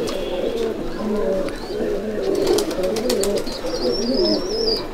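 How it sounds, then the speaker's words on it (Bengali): Pakistani Mianajir pigeons coo steadily in a loft, low rolling calls repeating throughout, with occasional chirps and a few bright higher bird notes over a busy background. "এই আমার কাছে অরিজিনাল পায়রা আছে"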